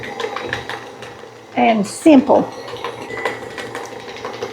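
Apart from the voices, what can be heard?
electric stand mixer beating cake batter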